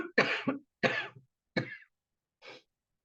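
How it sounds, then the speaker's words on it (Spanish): A person coughs four times in quick, separate bursts during a lecture on diabetes, close and fairly loud, with short silences between and a fainter final cough. "Si no tose porque tiene moco, tose porque toma agua"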